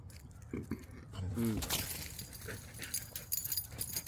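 A puppy indoors gives a few short, whiny yelps and a drawn-out whimper, close and fairly loud over faint background clinks.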